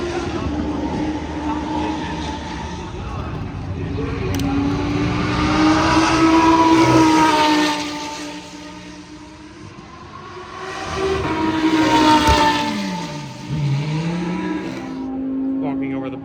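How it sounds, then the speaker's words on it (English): Race cars at the Watkins Glen circuit roar past loudly in waves, engine notes rising and falling as each passes, with a speaking voice over the track noise. "Race cars."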